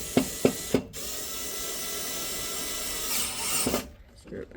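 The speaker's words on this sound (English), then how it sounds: "Screw it back in, nice and secure," A screw is driven back into the heating element of a Curadle pet brooder, starting with a few sharp ticks, then a long steady drill whir that cuts off near the end.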